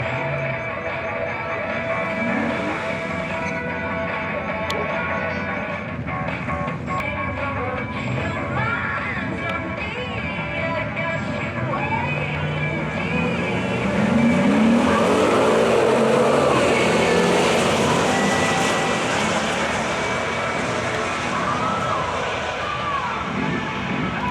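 A car fitted with a ported intake plenum makes a track run, with an engine roar that rises and swells louder midway before easing off, heard from a distance over a steady outdoor background.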